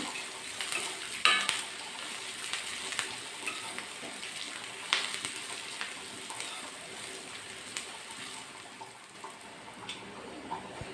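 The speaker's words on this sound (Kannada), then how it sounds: "ಈರುಳ್ಳಿ ಸ್ವಲ್ಪ ಕೆಂಪಾಗೋವರೆಗೂ ಹುರ್ಕೊಳ್ಳೋಣ" Onions with curry leaves fry in a seasoning pan for basale greens and alasande saaru, giving a steady soft sizzle broken by occasional spoon scrapes and metallic clinks, close up and without talk.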